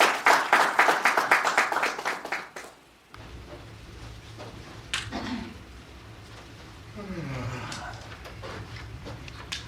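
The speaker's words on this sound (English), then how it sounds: "Let's give them a round of applause as they come." An audience at a book launch claps for several seconds in a dense burst that tapers off, followed by quieter murmuring and scattered sounds in the room.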